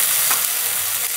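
Curry leaves and dal sizzle in hot tempering oil, a close, steady hiss and crackle with a soft stir partway through.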